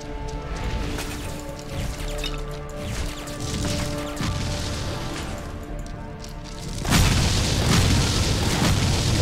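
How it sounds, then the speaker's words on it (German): Explosive-shot skill blasts in the Torchlight action RPG: repeated punchy booms and crashes over sustained game music, ending with a much louder, broad burst of explosions near the end. "Bisschen Explosionsschuss"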